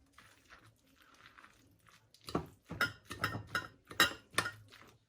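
Spoon mixing coleslaw with cream in a bowl, starting as quiet soft stirring and turning into a run of sharper wet clinks and crunchy scrapes.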